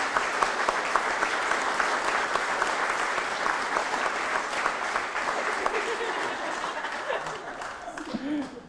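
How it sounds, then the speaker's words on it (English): Wedding guests applauding the newly married couple in a ceremony, dense sustained clapping from a roomful of people, fairly loud and continuous, fading slightly toward the end as a voice begins. "I think we can give them a round of applause."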